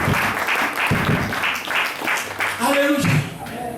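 Congregation clapping and acclaiming during a church service, loose applause and crowd cheers under a preacher's amplified voice, swelling toward the end.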